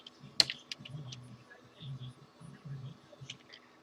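Chat commands are typed on a computer keyboard while playing Astonia 3: sparse, faint key clicks with one sharper tap, under a soft murmur of speech.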